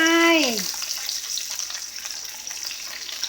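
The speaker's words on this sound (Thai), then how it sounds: "ใส่บรอกโคลีก่อน เพราะว่าบรอกโคลีจะสุกยากกว่า" Broccoli and chicken stir-frying in a pan, heard as a steady close sizzle with light crackling after a short tonal sound at the start.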